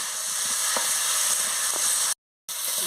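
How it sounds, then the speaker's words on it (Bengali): Cauliflower and potato fry in spice paste with a steady close sizzle and a few stirring scrapes; the sizzle drops out for a moment near the end, then resumes. "আমি ফুলকপি আলুটা দিয়ে দিয়েছি, দিয়ে ভালো করে মশলার সঙ্গে কষিয়ে নিচ্ছি।"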